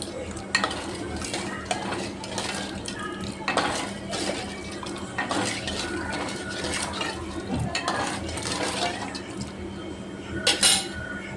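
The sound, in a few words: pouring broth over vegetable pieces in a pot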